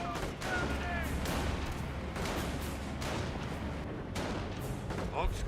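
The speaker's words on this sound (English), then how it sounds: "I hear an extra 25-pounder barrage over here" Dense, continuous artillery barrage in Company of Heroes, a 25-pounder bombardment rumbling with overlapping booms and crackling impacts throughout, loud and sustained with brief sharper blasts near the end.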